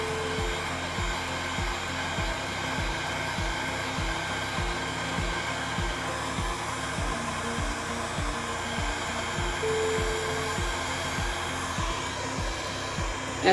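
A hair dryer runs steadily and close for the whole stretch, drying chalk paste on a farmhouse-style chalk art craft piece, with a rhythmic low pulsing under its constant whoosh and no talking.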